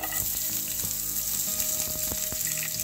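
Finely chopped onion sautés in hot oil with mustard seeds and cumin for a desi Maggi, a loud close sizzle with crackling pops and the occasional scrape of stirring.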